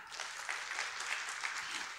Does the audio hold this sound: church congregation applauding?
yes